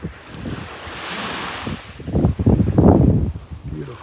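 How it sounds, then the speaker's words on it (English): Surf breaking on the south end of Vanderbilt Beach in North Naples, Florida, a steady wash that swells into louder surges toward the end, with wind buffeting the microphone. "now I'm down at the south end of Vanderbilt Beach"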